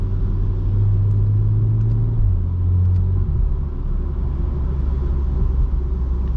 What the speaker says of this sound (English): the car just builds and builds and builds, reminding you that even though this is a turbocharged engine, BMW knows their stuff